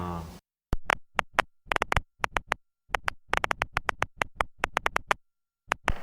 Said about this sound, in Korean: 이거는 지금 현재 뇌에서 어, 전극을 통해서 신호를 받고 있는 거예요